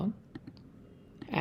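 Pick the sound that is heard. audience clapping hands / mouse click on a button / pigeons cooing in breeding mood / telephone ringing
mouse click on a button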